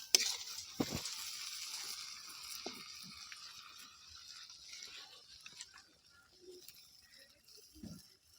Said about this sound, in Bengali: আমাদের মশলাটা এখন ভাজা ভাজা হয়ে গেছে